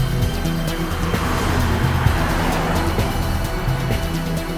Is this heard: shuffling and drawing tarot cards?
no